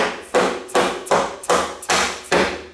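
A dead blow hammer strikes a Honda VTX 1300 motorcycle's front axle six times in a steady rhythm, each blow a loud, close, dull wooden-sounding thump.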